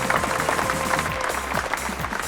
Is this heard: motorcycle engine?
no